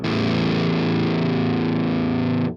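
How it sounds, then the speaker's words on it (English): Heavily distorted electric guitar played through a vintage amp pushed by a Kohle pedal with the EQ cranked, a loud sustained chord ringing steadily for over two seconds before cutting off abruptly. "So the more you push the EQ, the more distortion you will have"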